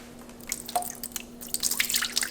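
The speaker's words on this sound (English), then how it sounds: "you want to strain the water" Water trickling and dripping as soaked Brazil nuts are strained, with scattered drips and small splashes growing busier toward the end, close and fairly quiet.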